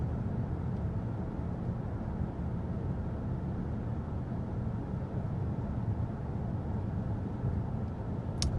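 Steady broadband cabin road noise inside a 2023 Honda Pilot or 2023 Nissan Pathfinder cruising at 55 mph, a constant low rumble and hiss with no talk.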